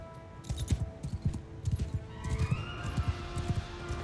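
Horse archers gallop across a battlefield in the game Mount & Blade II Bannerlord, with rapid, rhythmic hoofbeats thudding close and loud throughout, alongside a whinny and the general din of combat.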